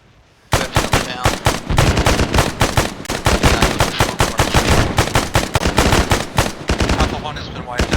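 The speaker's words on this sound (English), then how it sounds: "Red tracers on outbound vehicle. And they're firing again." Gunfire in a military video game, starting abruptly after a brief quiet moment, then long sustained automatic bursts that hammer loud and close without pause to the end, with faint radio-style voices underneath.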